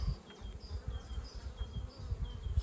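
Buckfast honey bees hum at an apiary hive, a close, dense buzzing with individual insects whining past in brief higher-pitched sweeps, continuous and unaccompanied by talk.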